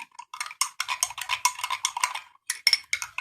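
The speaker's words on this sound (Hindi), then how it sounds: "अच्छे से मिला देना ताकि मिक्स हो जाए।" A spoon stirring homemade hand sanitizer in a small container, quick rhythmic clinks and scrapes against the sides, close and crisp with brief pauses, no talking.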